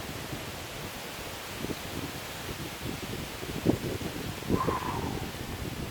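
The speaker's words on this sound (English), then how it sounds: "Look at this breeze that just blew in." Gusty wind buffets the microphone outdoors at a beach house construction site in the Philippines, a steady broadband rush with a few stronger bursts, no talking.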